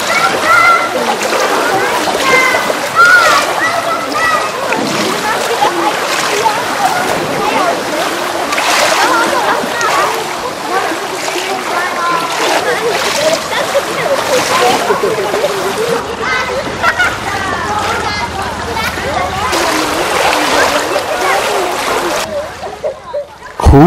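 Video-game swimming produces continuous splashing and sloshing water for the whole stretch, loud and busy, with a short change in texture near the end. A voice speaks over part of it.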